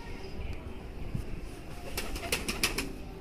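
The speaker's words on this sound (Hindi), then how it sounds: "ये दोस्तों चूहा कबूतर है जी" Low cooing from a white pigeon in a noisy setting, followed by a quick flutter of wings and a few sharp rustling bursts.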